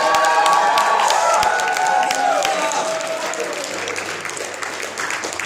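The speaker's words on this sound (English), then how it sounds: "Let's give the King of Kings, to whom all praise and honor and glory is due, a clap and a shout." A church congregation at God's Kingdom Ministries claps and shouts in praise: dense, steady applause mixed with cheers, with sustained musical tones beneath, easing slightly toward the end.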